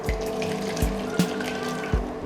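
Curdled milk for rasmalai chhena is poured slowly through a clean cloth laid over a strainer, giving a steady watery splash and trickle with a few soft thumps.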